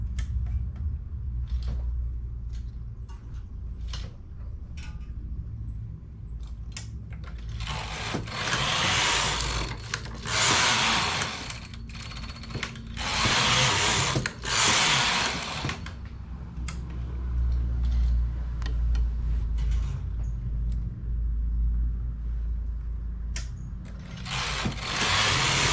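A domestic knitting machine working rows for baby trousers, the carriage sliding back and forth in long rasping sweeps with clicks in between, steady and close.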